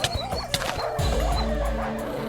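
Video game dogs yip, bark and whimper in quick bursts over a steady synthetic game background, close and fairly loud.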